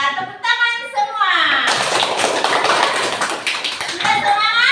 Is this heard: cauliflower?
no